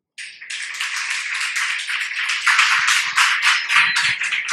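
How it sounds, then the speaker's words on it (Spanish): A lecture audience applauds at the close of a talk, with steady dense clapping that starts abruptly and holds at full strength throughout, close and lively with no voices over it. "Pues muchas gracias, merecido aplauso."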